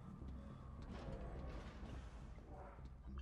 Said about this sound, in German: Tür auf.